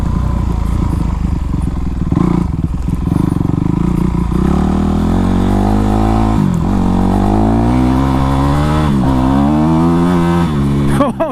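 A Honda CRF450 four-stroke dirt bike engine revs loudly and steadily, pitch rising and falling in repeated surges as the throttle is worked, close and dominant with a voice talking underneath.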